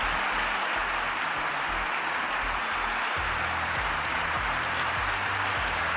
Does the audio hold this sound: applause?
yes